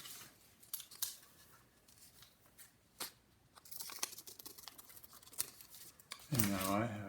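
Scissors snip through a paper fraction strip folded in half, giving several quiet, crisp cuts and some paper rustling, and a voice speaks near the end.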